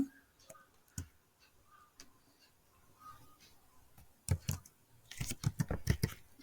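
Computer keyboard typing, soft scattered taps at first and then a quicker, louder run of key presses toward the end, with no talking.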